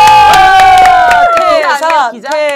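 A studio audience at a Korean talk show's farewell special lets out a loud cheer, with high, sustained voices whooping and shouting together close up, trailing off into scattered calls.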